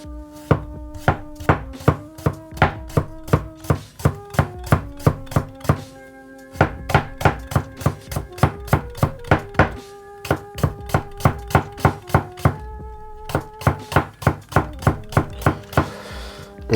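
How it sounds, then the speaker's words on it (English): A light Jiro nakiri knife chops rapidly on a cutting board, producing crisp, close, evenly spaced thunks in quick runs that are broken by short pauses, with no talking. "perhaps if I start chopping with this blade"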